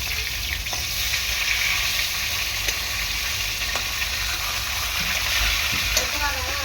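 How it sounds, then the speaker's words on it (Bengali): Fish heads frying in hot oil in a pan, turned over while they crisp, giving a steady close sizzle and crackle throughout with a few faint stirring knocks. "তো দেখো উল্টে পাল্টে মাছের মাথাটা ভালো করে এরকম ভেজে নিয়েছি"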